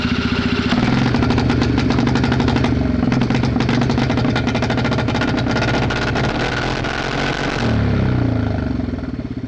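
A cheap, abandoned Honda three-wheeler engine catches almost at once and runs loud and close with a rough, clattering idle, then shifts to a steadier beat near the end.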